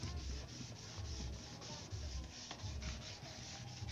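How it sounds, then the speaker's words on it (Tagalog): Wet sanding of a motorcycle fairing by hand with water-soaked 400-grit sandpaper gives a rhythmic rubbing scrape, stroke after stroke in a steady back-and-forth, close and fairly quiet with no talking. "ang gagawin natin ay tutubigan natin yung liha natin bago nating is dito sa ating kaha o sa fairings ng ating motor"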